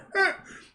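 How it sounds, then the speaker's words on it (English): A single short cough or throat-clearing burst from a man performing a comedic Mr. Bean–style routine, close and fairly loud, fading quickly into quiet. "and you cough again."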